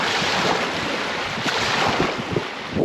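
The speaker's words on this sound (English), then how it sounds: "Okay, so that's your Killbear Beach." Waves washing onto Killbear Beach on a sunny day, a steady broadband surf wash with rolling swells, mixed with wind buffeting the microphone, no voices.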